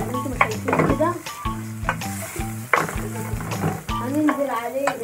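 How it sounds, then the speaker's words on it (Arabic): Onions sizzle and crackle while they are stir-fried in a pan, with a steady sizzle under repeated scraping and clanking of a utensil against the pan. A voice talks over the cooking throughout. "بعد البصل خلاص اتشوح زي ما انتم شايفين كده"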